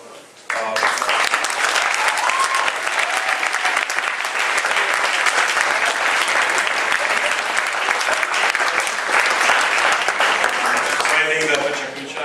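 Sustained applause from a student audience at a talk, a dense wash of clapping that starts abruptly and continues loudly and steadily for about eleven seconds before tapering slightly at the end.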